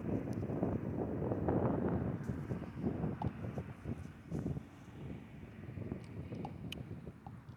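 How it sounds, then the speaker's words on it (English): Steady low rumbling wind buffeting the microphone, continuous throughout with faint scattered clicks above it. "It's a little windy."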